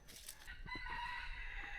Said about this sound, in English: Roosters everywhere around us.